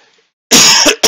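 A single loud, close cough bursts out after a moment of near silence, followed by a second short cough at the end.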